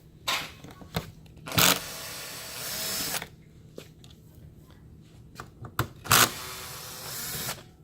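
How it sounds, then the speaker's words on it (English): A Phillips power screwdriver backs screws out of a Sharp MX-M453N copier, with several short whirring bursts separated by pauses and quiet handling noises, close by and fairly loud. "We're actually using a Phillips power screwdriver."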